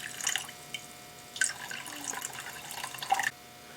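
Tap water runs and splashes into a measuring cup for sourdough, a few uneven trickles and drips rising and falling close by before stopping abruptly.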